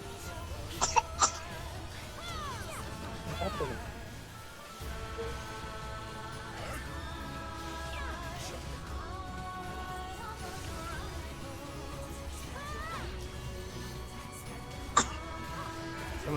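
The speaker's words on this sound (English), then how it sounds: "Yeah, it sounds like a baby cough." A baby's cough comes from in-game audio in Final Fantasy XIV: a few brief cough bursts early and one more near the end, set against a continuous bed of game music and ambience.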